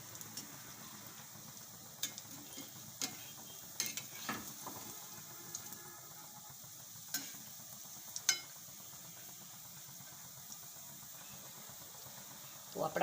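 Green garlic bhajiya fritters frying in oil in a kadai, a low continuous sizzle with occasional spoon taps and clinks against the pan, quiet and close, while someone talks over it.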